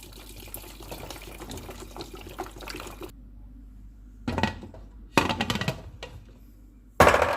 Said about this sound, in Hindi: इसमें मैं पानी डाल रही हूँ 2 लीटर।